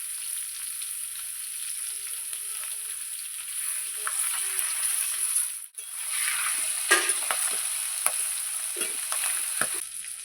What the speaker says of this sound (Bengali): আমি মাছটা ভালো করে লাল লাল করে কড়াভাবে ভেজে নেব